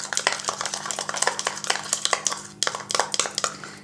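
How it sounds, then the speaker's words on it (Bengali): A spoon stirs a sugar and oil mixture in a bowl, giving rapid, irregular scraping clinks against the bowl that carry on without pause, close and fairly loud. "দিয়ে ভালো করে এটাকে মিশিয়ে নিচ্ছি।"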